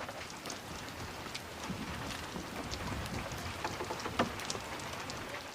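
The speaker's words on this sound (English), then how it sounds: "the start of steady but generous rainfall" Steady rain falls in a continuous hiss with scattered drips and patters, fairly faint and even throughout.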